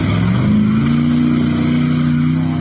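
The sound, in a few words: Toyota Hilux single cab truck engine revving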